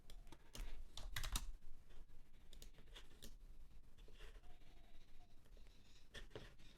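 Fairly quiet, close computer keyboard typing in irregular bursts of clicks separated by short pauses; nobody speaks.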